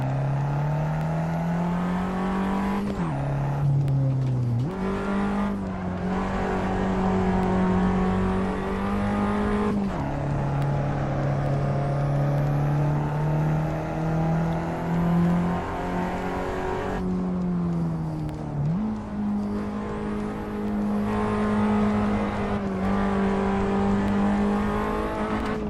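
A race car in the sim racing game Assetto Corsa holds a loud, steady engine drone with several pitch drops as gears shift, then climbs again under acceleration, continuous throughout.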